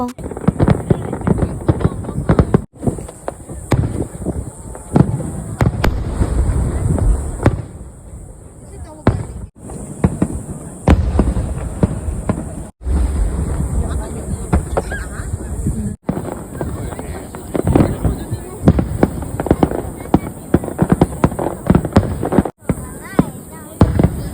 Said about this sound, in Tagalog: At ito pala yung mga fireworks na nakuhanan ko dito.